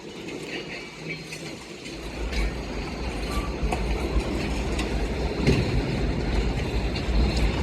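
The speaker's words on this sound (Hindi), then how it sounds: "14 डाउन के आने से पहले ही ये ऑयल कंटेनर ट्रेन का डिपार्चर हो गया है।" Oil container freight train departing Kaluwal railway station, with a continuous low rumble and rhythmic clickety-clack of wagons rolling close by, steady and loud with faint metallic clinks and no talk.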